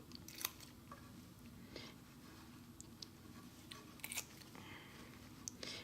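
Large scissors cutting through a pig heart during a dissection: faint, close crunching snips and wet squelches scattered irregularly over low background noise.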